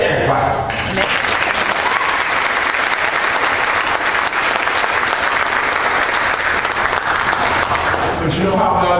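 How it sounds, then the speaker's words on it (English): Church congregation at an Easter service applauding the choir, sustained loud clapping from the whole room that fills the entire stretch, with a few voices faintly mixed in. "Deborah, give them a hand clap"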